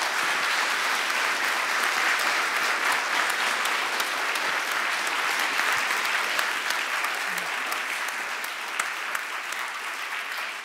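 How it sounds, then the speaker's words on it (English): Audience applause after a university faculty research lecture, a dense steady clapping from a large hall crowd that fills the whole stretch at an even level and eases slightly toward the end. "give a hand to Professor Kaner for a round of applause"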